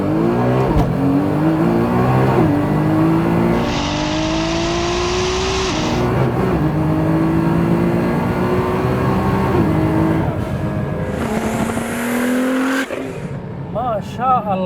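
A tuned Nissan GT-R of over 1000 horsepower roars as it accelerates hard, pitch climbing through gear changes, loud and close, with people talking over it inside.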